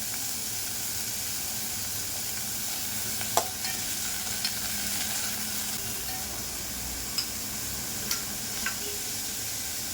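Chopped snake gourd cooks in a pan, giving a steady, even sizzle and hiss throughout, with a few brief sharp clinks of stirring scattered over it and no voices.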